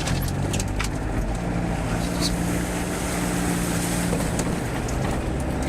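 A Mitsubishi L300 van in first gear, not in four-wheel drive, pushes through a water crossing in Kenya with a steady, loud engine drone and rushing water throughout, while people speak faintly over it.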